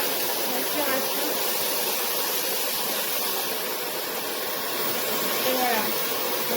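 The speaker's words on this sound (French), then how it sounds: "c'est le bruit d'un aspirateur classique" An Amazon Basics cordless 2-in-1 stick vacuum cleaner with a 150W DC motor and 0.7 L bin runs close by, giving a steady, loud, airy roar and hiss that holds evenly throughout.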